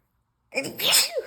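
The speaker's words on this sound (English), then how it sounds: "I'm gonna sneeze." A single loud, close sneeze bursts out after a moment of silence, with a sharp breathy explosion and a brief vocal tail.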